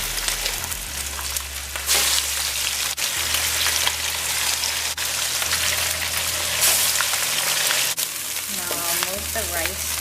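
Salmon fillets frying in a pan, a steady close sizzle with crackling spatter running throughout, louder bursts as the fish is turned, and a few faint voice-like tones near the end.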